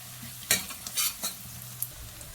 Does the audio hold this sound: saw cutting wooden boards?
no